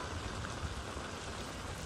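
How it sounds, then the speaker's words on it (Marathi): Heavy rain pours down in Andheri, Mumbai, a steady, even roar of falling water with no breaks, captured fairly quietly and without voices. "मुंबईतील अंधेरीमध्ये देखील मुसळधार पावसानं चांगलंच झोडपून काढलंय"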